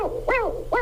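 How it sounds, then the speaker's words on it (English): A northern spotted owl hoots in a clear, close series of three rising-and-falling calls spaced evenly apart, with nothing else heard. "or specifically the northern spotted owl"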